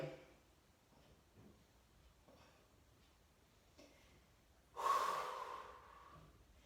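Heavy exertion breathing during an intermediate HIIT Pilates workout targeting the obliques, soft and close for most of the span, then a loud, sharp breathy burst near the end.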